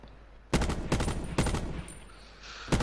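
Gunfire bursts in Call of Duty Black Ops 4 Blackout battle royale, several loud broadband shots in quick clusters separated by brief pauses, with ambient game noise between them.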